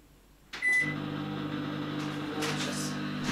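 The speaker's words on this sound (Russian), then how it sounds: "может быть, подогреть мне в микроволновке" A microwave oven switches on with a short beep and a soft click, then settles into a steady, close hum that holds at an even level to the end of the clip.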